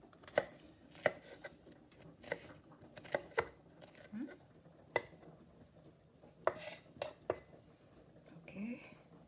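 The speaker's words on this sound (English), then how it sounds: "So I'm gonna cut and add my garlic" A knife chops garlic on a board in sharp, close, irregular taps, about a dozen strikes over several seconds, with quiet kitchen clatter and a low voice in the background.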